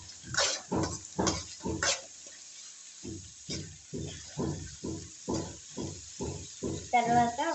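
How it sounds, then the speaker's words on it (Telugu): Onions fry in a pan while being stirred for a country chicken curry, with a steady run of rhythmic scraping strokes over a sizzling hiss, close and fairly quiet, briefly pausing midway. "ఒక 5-6 నిమిషాలు ఆనియన్ కలర్ చేంజ్ అయ్యేంత వరకు ఇట్లా వేయించుకున్నాము"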